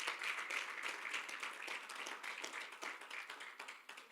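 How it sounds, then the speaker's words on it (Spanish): A church congregation claps loudly together, dense rapid hand claps sustained evenly over a few seconds with no talking. "¿Cuántos le dan un aplauso fuerte al Padre?"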